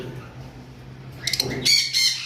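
Green Fischer's lovebirds, double factor, call in a bird shop with bursts of shrill squawks and chirps arriving in the second half, close and fairly loud over a low background hum.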